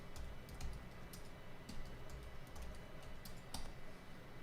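Quick, irregular keystrokes on a computer keyboard enter a password in bursts of sharp clicks, close and quiet, with no talking.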